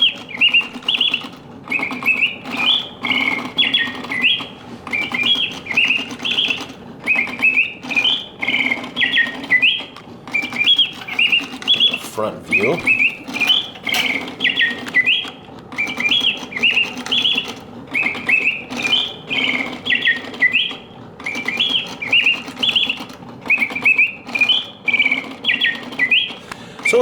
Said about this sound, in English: The birds sing with full voice, wonderful, realistic bird songs.